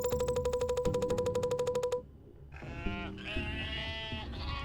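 Sheep bleat inside a video game military base, wavering cries over a rapid mechanical pulsing beat that stops abruptly, followed by a lower layered game tone and more bleating.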